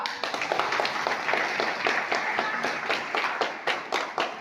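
Rhythmic group clapping at a religious worship ceremony at Shrikshetra Kataladheda, with regular beats in a steady pulse and the crowd clapping in unison.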